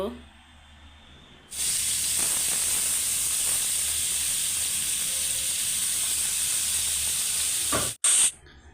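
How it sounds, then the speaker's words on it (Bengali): Fish pieces drop into a hot frying pan and set off a loud, sudden, continuous hiss of spitting oil that holds steady for several seconds before a brief break. "ফ্রাই প্যান বসিয়ে দিয়েছি মাছগুলো বেজে নেব"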